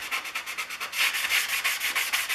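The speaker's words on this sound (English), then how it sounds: "I'm going to use the sanding sponge to even up the patina." Sanding sponge rubbed in one direction over a metal Stanley No. 129 Liberty Bell fore plane to even its patina, a close, steady rhythmic scrubbing of repeated hissing strokes, with no talk.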